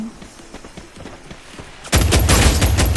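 Gunfire from a gun in the mobile battle game Free Fire: a quiet stretch, then a sudden loud, dense burst of rapid shots that continues to the end.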